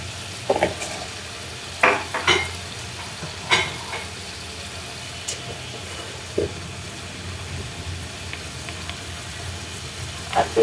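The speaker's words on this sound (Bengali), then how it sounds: "ভালো করে মশলাটা হচ্ছে কষাবো" Spices mixed with kebab masala, cumin paste and a splash of water sizzle in a pan while being stirred, a steady fry hiss broken by scattered scraping knocks of the spoon, close and alone without talk.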